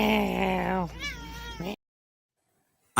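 A human voice imitates a cat, giving two drawn-out meows in quick succession, close and clear, before the sound cuts off into near silence.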